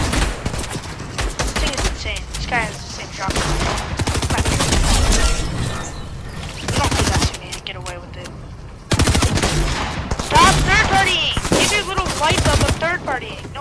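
Shotgun fire in the video game Fortnite, with a double pump shotgun, rapid bursts of loud game gunfire and action sounds across the clip, some stretches dense with shots.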